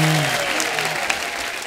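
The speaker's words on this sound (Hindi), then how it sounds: "मेरी माँ के लिए जोरदार तालियां" A studio audience at a comedy talk show applauds in a steady, fairly loud wash. A faint voice and some musical tones sit underneath the clapping.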